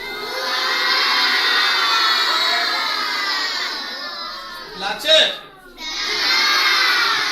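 A crowd of children and adults cheers and shouts loudly and steadily at an Indian paper art demonstration of an automatic paper garland, with a brief dip and a short burst of voices before the noise swells again.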